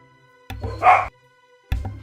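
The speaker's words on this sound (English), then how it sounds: "I went to start talking, and all my dogs started going off." Several dogs bark in two loud, close bursts of yapping, a brief pause between them, with no talking.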